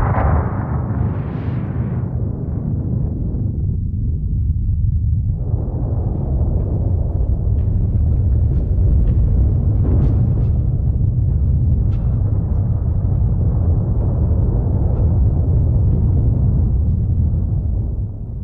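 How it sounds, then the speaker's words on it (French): Iceland's Laki volcano erupts in 1783 along a vast fissure. A sharp burst opens onto a heavy, continuous low rumble that stays loud and unbroken throughout. "Après une terrible explosion, partant du volcan Laki, une faille gigantesque de 30 km apparut."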